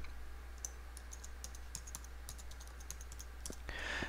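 A password being typed on a computer keyboard, a quiet run of irregular, close clicking keystrokes over a low steady hum.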